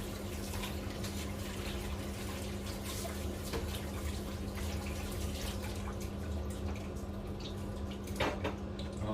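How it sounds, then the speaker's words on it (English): Tap water runs steadily into a kitchen sink while a pasta colander is washed, a continuous hissing splash with an occasional clatter, moderately close and without talking. "let me just wash the colander"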